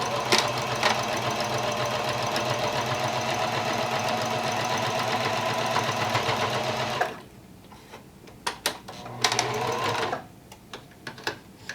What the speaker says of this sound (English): Now we're going to sew right down over the top of the piece of elastic and through the fabric.